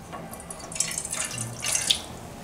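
Water pours into a container for making a cornstarch crochet-stiffening glue, a close, light splashing trickle that swells and fades in short pours.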